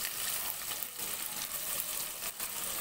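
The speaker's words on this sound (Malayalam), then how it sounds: "നന്നായിട്ട് വഴറ്റിയെടുക്കുക." Chopped onion sautéing in a pan for chilli chicken, a steady close broadband sizzle with faint stirring scrapes running throughout, no voices.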